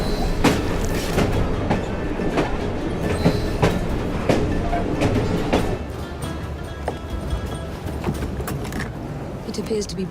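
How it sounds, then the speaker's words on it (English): A train rolls past in the Assassin's Creed Syndicate video game, with a steady rumble and repeated clickety-clack wheel beats over the full stretch, alongside voices. "at least we have a train now"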